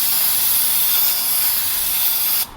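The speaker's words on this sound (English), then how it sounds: "I'm going to try to get some penetrant in here." Penetrant sprays from an aerosol can onto a seized front wheel bearing of a 2015–2020 Ford Fusion in one loud, continuous close hiss that cuts off abruptly.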